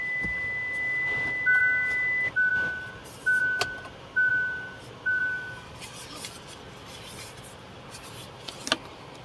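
A parked electric car sounds its no-key warning: a steady high electronic tone, then a string of five short identical beeps at even intervals, fairly clear over a quiet background hiss, followed by soft handling noises.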